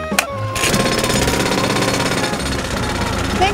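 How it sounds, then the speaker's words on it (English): A cartoon pencil drill runs as a loud, rapid, rattling hammering roar, steady after a short start and continuing without a break. "let's see how the pencil drill works"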